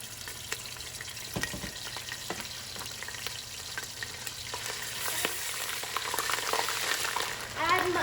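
Garlic ginger paste frying with whole garam masala in a pressure cooker, a steady crackling sizzle with occasional stirring scrapes throughout, growing a little louder toward the end.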